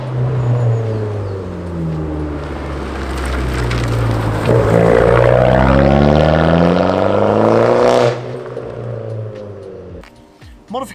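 An Abarth 595 with a modified exhaust revs and accelerates while driving, its engine note climbing through sweeping rises, loud and close, before cutting off abruptly near the end.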